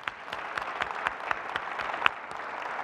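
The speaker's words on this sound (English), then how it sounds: "A round of applause for all of our presenters." A conference audience applauds presenters after a panel plenary, steady dense clapping throughout with a few louder individual claps standing out.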